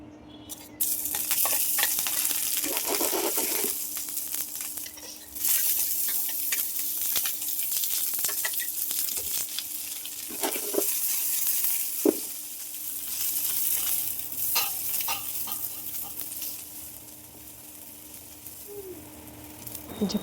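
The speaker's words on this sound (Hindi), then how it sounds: "चोखा को फ्राई कर लेती हूँ। फ्राई करने के लिए मैंने प्याज और मिर्ची पहले काट के रख लिया था।" Onion and chilli frying in a pan for chokha, a steady loud sizzle running throughout with occasional clinks and stirring scrapes, no talking.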